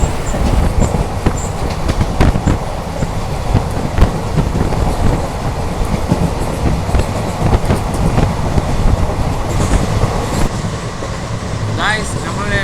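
A passenger train between Jolarpettai Junction and Erode Junction in India rolls along at express speed, a loud steady rumble with rhythmic clickety-clack of wheels and a brief squeal near the end.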